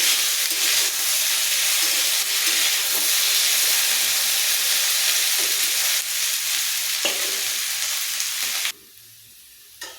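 Cauliflower and potato pieces sizzling steadily in hot oil in a pan, a loud continuous hiss with faint stirring clicks, stopping abruptly near the end.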